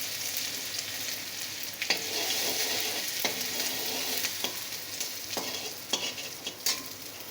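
Grated ginger and dried red chillies frying in hot oil in a pan, a constant close sizzle punctuated by about half a dozen sharp scrapes of a spatula, with no voices.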